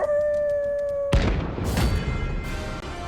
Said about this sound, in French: Coucou les toutous, vous êtes dégueulasses.